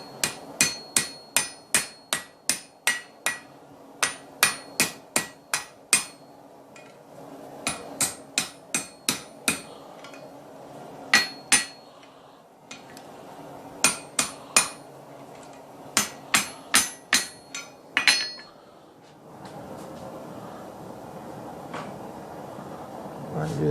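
Hammer forging hot steel on an anvil while making knife maker tongs: rapid ringing metallic blows in quick bursts of several strikes, close and loud, separated by brief pauses, ending in a quieter stretch.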